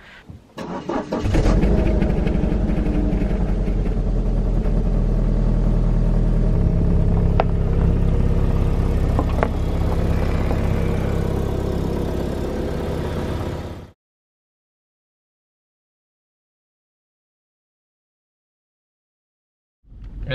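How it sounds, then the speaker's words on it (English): A BMW 318i E46 Touring engine cold-starts, cranking and catching, then settles into a loud, steady rumbling idle close by before cutting to silence. "give you some 318 cold start sounds"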